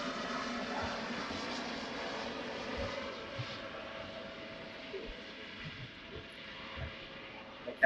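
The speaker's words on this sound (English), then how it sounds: "There's the helicopter." A helicopter flies overhead outdoors, heard as a faint, distant, steady engine drone that stays low and constant throughout.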